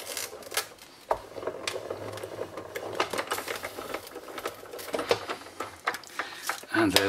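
A Sizzix die-cutting machine is hand-cranked through a cut, giving uneven mechanical clicks and rattling rolls at close range, with a person talking throughout.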